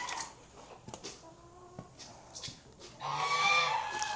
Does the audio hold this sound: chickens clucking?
yes